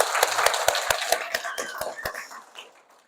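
An outdoor church congregation claps in thanks, a brief run of sharp, fairly close handclaps that thins out and fades after about two seconds, with quiet murmuring voices underneath.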